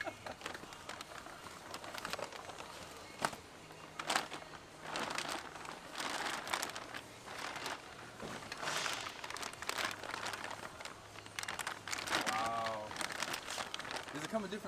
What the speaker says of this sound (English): This is every guy's dream, unboxing a brand new turbo.